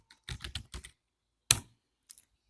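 A folder name typed on a Windows 8 computer keyboard, a short burst of a few clicky keystrokes followed by one louder key press and a couple of light taps, close and isolated in silence.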